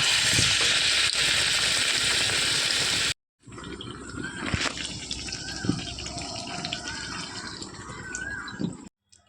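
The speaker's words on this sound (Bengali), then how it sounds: "আবারও তুলে নেব এটা এভাবে প্রত্যেকটা আমি ভেজে নেব" Eggplant fritters (beguni) deep fry in oil with a loud, dense sizzling hiss for about three seconds. After a sudden cut, a quieter bubbling crackle continues with occasional pops and drips.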